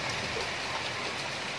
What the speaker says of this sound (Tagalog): hangin na to at saka ulan, napakalakas